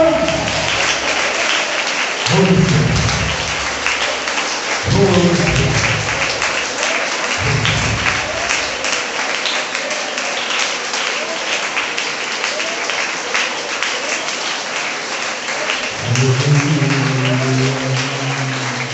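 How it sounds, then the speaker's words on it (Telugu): A church congregation claps steadily and loudly throughout a Sunday worship service, while a voice calls out in short bursts over the applause. "చప్పట్లు చప్పట్లు"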